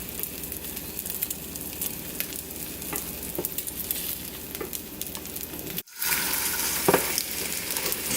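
Eggs for a ham and sausage omelette sizzle steadily in a hot pan, with a brief dropout and then a louder, brighter frying hiss, close by and with no voices.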